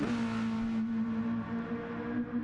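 Race car engine from a junior racing series round, holding a steady high-pitched drone at sustained throttle through a quick lap, loud and continuous with no talk.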